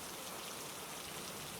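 Steady rainfall hisses evenly and softly throughout, a dense, continuous wash of falling drops with no voices.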